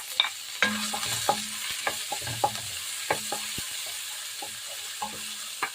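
Carrots fried in hot oil in a home kitchen while a utensil stirs them, giving a steady soft sizzle with repeated sharp scraping clicks against the pan at an uneven rhythm, close and clear with no talk.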